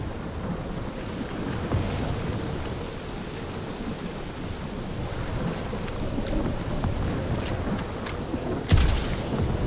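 Steady rain and a thunderstorm in the Guardians of the Galaxy video game, dense rainfall hissing throughout, a louder thunder crack near the end, no voices.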